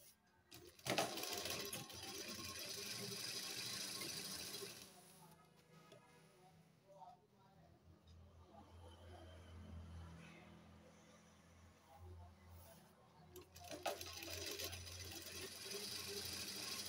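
Sewing machine stitching the sleeves of a kurti runs in two steady whirring stretches, one at the start and one near the end, with a person talking over and between them.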